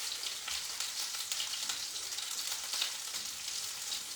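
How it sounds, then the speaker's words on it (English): Shrimp frying in hot oil sizzles steadily and evenly, a close, continuous crackling hiss with no talking over it. "Now we're frying."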